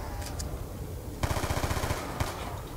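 Rapid bursts of gunfire in Call of Duty Nuketown Zombies, a dense rattling volley starting abruptly midway and continuing loudly, with faint game sounds before it.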